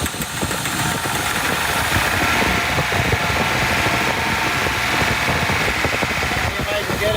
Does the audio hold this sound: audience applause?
no